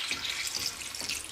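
Running tap water while food is washed for meal prep, a soft, steady hiss and splash with small bright spatters, fairly faint and close, with no voices.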